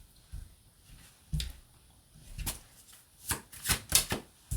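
Tarot cards are pulled and shuffled by hand, heard as scattered soft slaps and crisp flicks that bunch into a quicker run near the end, quiet and close with no talk.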